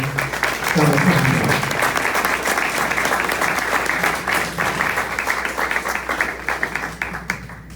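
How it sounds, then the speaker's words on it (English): A Caribbean Innovation Challenge audience applauds MicroMentor's global executive director, a dense round of clapping that stays loud throughout and tapers slightly near the end. "Please give a round of applause for the Executive Director for MicroMnetor"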